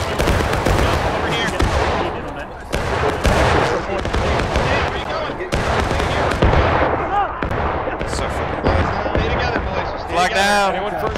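Musket volley fire in the War of Rights video game, an American Civil War battle at Burnside Bridge: dense, continuous crackle of many shots over eleven seconds with shouted voices mixed in, loud and close throughout.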